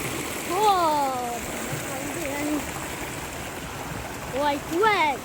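Strong water rushes with a loud, constant roar, and a few excited vocal exclamations rise briefly over it.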